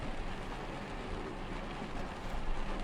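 Rain in the American Truck Simulator game patters steadily in a continuous even hiss, moderately loud and alone, without voices.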